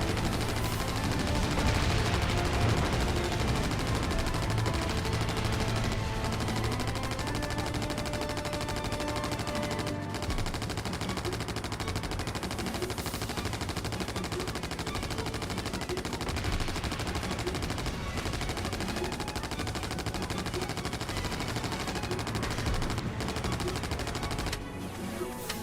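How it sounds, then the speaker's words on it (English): Dense, sustained machine-gun fire in the aerial combat video game Wings of War, strafing trucks, rattling almost without pause for the whole stretch over a busy layer of game sound. "the sheer amount of gunfire we've put out"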